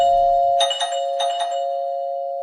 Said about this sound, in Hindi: कि तभी घर की डोरबेल बजी।